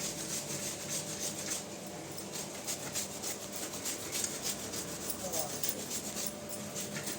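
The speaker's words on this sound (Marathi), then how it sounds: "गुळ आहे ना सगळा किसून घ्यायचा" A block of jaggery is grated by hand, giving a continuous close rasping scrape with repeated strokes under a steady background hum.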